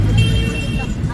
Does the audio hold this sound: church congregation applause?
no